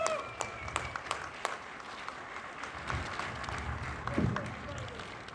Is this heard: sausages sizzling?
no